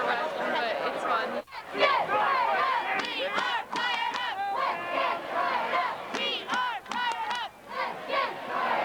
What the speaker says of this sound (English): You want them to cheer for you.